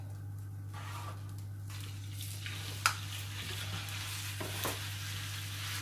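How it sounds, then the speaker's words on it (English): Minced beef fries in an old frying pan with a soft continuous sizzle and occasional stirring scrapes, steady and close over a low electrical hum. "do you wash your minced beef before frying it?"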